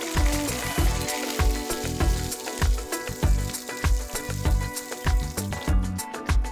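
Chopped dried chili peppers sizzle and crackle in a wok over low heat for Kung Pao chicken, a close, steady frying hiss with a pulsing low rumble beneath it.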